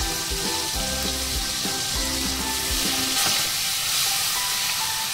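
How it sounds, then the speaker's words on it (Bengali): Spice paste with turmeric and salt fries in hot oil in a pan, a steady close sizzle with scraping stirs through the first few seconds, then a softer continuous frying hiss. "এবারে মশলাটা ভালো করে কষিয়ে নেব।"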